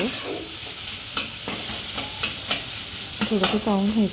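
Aloo paratha potato filling stirred in a pan, a spoon scraping in a steady series of soft taps and scrapes over a faint sizzle, ending with a brief burst of louder scraping.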